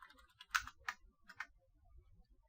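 A computer keyboard is typed on in a few quiet, sparse bursts of key clicks, heard close and alone with no talking.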